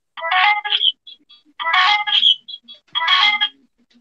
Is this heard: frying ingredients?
no